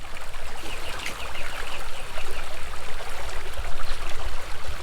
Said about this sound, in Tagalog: maririnig mo yung langit-kit kawayan, ibon at saka yung ilog